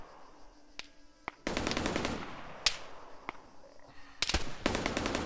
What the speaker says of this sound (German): die schießen halt von der großen Fläche auf uns